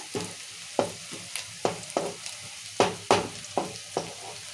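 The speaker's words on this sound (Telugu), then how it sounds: "ఉల్లిగడ్డలు మంచిగా వేయించుకోవాలి నూనెగా ఉల్లిగడ్డలు ఇట్లా ఎర్రగా వేసుకోవాలి" Onions frying in oil until reddish-brown for ivy gourd curry: a low sizzle punctuated by about eight distinct spatula strokes scraping the pan in an uneven rhythm, close and alone.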